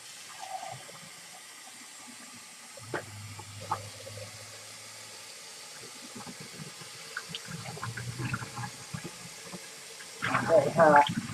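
Hot tap water runs into a measuring cup in a home kitchen, a soft trickle that builds to a louder gush near the end, with clinks and a voice talking now and then.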